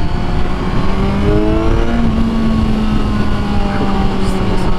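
Kawasaki sport motorcycle engine at a demo ride event in Orlando, loud and close, revving with rising and falling pitch over a steady roar.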